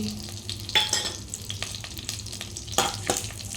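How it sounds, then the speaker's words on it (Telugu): Green chilies, mustard seeds and cumin frying in hot oil while being stirred, with crackling sizzle and several sharp scraping strokes of a spoon against the pan, close and moderately loud, no voices. "పచ్చిమిర్చి ఆవాలు జీలకర్ర బాగా ఫ్రై అవ్వాలి"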